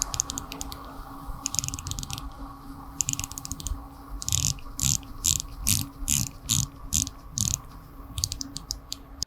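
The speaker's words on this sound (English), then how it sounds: "Now let's check out that bezel action." Ceramic dive watch bezel on a Grand Seiko SLGA023 being rotated, giving rapid crisp ratcheting clicks in bursts, close and distinct, with short pauses between turns.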